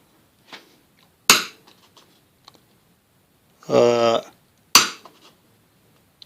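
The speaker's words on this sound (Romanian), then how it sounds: "ne ajutăm și de un ciocănel, să punctăm" A few sharp metallic taps from a small hammer marking points on a printed circuit board, spaced apart, with a brief ringing clatter in between.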